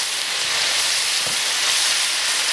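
Sauce stir-frying in oil with coriander and bean paste in a wok, a loud, steady broadband sizzle and hiss with no pauses, close up.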